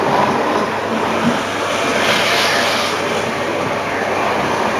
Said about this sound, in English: I am going to run a train today.